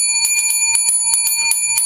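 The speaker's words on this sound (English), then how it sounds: "Yes, you beat that bell, Nick." A bell is struck in a rapid run of about a dozen bright, ringing dings that sustain and overlap, loud and close, with no talk.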